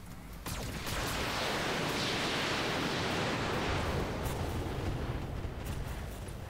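Heavy mech weapons in RogueTech, a BattleTech video game, unleash a sustained full-volley roar after a sudden onset, a loud, dense rumbling blast that holds steady for several seconds with no talk over it.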